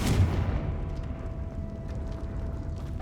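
Confringo blasting spell in Hogwarts Legacy blowing up a barricade, a deep rumbling explosion that opens loud and close then settles into a lingering low crackle and debris rumble, no talk.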